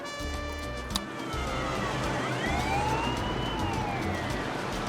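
Police car siren in the Tropico 6 video game, a rising and falling electronic wail sweeping up and down over steady in-game ambience, loud and continuous without speech.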